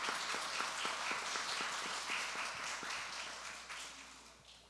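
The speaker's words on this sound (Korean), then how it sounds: "감사와 환영의 박수로 우리 선생님 맞이하겠습니다" Audience applause welcoming a guest speaker at a gathering, soft, somewhat distant clapping with distinct individual claps, gradually tapering toward the end.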